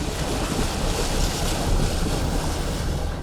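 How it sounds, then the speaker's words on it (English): A Jeep Gladiator splashes through a water crossing on a dry desert trail near St. George, Utah, giving a steady, broad wash of churning water and rushing noise for the whole stretch, loud and close with no voices. "Yet another of many water crossings,"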